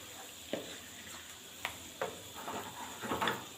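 Onions and mangodi, lentil dumplings, frying together in a pan with a soft, faint sizzle, broken by a few sharp clinks and scrapes of a spoon stirring at irregular intervals.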